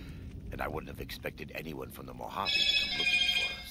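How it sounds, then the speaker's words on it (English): A mobile phone rings near the end with a bright, steady electronic tone after someone speaks, and his voice fades as the ring continues. "Hold on, that was my phone."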